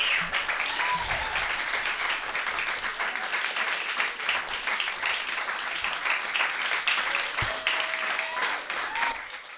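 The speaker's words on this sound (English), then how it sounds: "I have never heard an applause that long and extended." Sustained applause and clapping from an audience at a comedy open mic night, a dense continuous roar of hands with some cheering voices mixed in.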